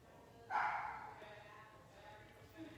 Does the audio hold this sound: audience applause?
no